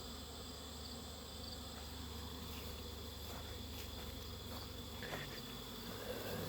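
Honey bees returning to their colonies at an apiary in the afternoon make a steady, faint buzzing hum, a continuous insect drone with a few closer passes rising briefly above it.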